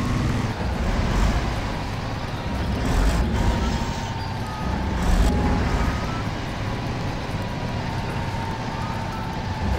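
Huge truck driving in the off-road game SpinTires, a steady loud engine drone and rumble that swells slightly and never stops.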